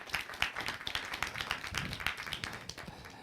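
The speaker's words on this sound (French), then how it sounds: "Oui, on peut l'applaudir." A small audience claps for a speaker at a talk, a fairly quiet and uneven patter of individual hand claps that stays steady throughout.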